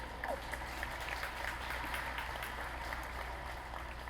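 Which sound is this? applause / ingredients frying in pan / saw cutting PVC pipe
applause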